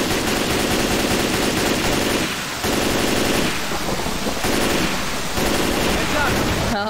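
Heavy, dense gunfire from the zombie shooter Left 4 Dead 2 roars almost continuously, with a few brief gaps, amid loud chaotic game noise.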